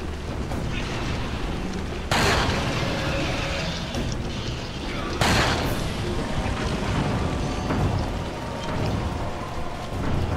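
Gunshots fired at the boss Saddler's eye in the video game Resident Evil 4, two loud, booming shots a few seconds apart, each cutting through a dense, steady rain-like roar of background noise.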